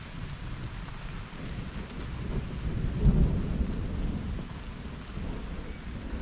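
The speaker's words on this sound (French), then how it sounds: "il me semble avoir attendu de l'orage" Low, rolling thunder from a storm over the sixth hole of Bellefontaine golf course in Val d'Oise, France, a deep rumble swelling around the middle of the clip beneath steady rain and wind noise, with no voices.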